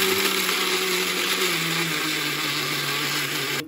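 A mixer grinder runs steadily, crushing peanuts for chutney, its loud continuous high-pitched motor whine close up and unbroken for several seconds before cutting off sharply at the end.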